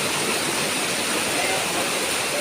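Strong floodwater current rushes steadily past, a loud, unbroken roar of churning water close by with no voices over it.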